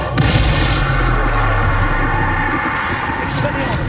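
Explosive spell blasts of Confringo and Bombarda from Hogwarts Legacy boom in a continuous loud barrage of impacts, with a voice speaking over the din.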